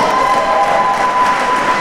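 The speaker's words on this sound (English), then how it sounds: "big round of applause please for both fighters" A fight-night crowd at a Budo 42 combat sports event applauds and cheers for both fighters after the bout, a dense, steady wash of clapping and voices filling the hall throughout.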